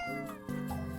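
A cat meows loudly and close in the video game Minami Lane, a drawn-out call over a steady tonal musical backdrop.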